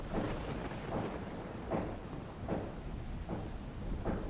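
Steady heavy rain pours down over Ahmedabad with a constant wash of noise, and low thunder rumbles underneath it throughout.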